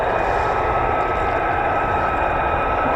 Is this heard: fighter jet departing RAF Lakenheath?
yes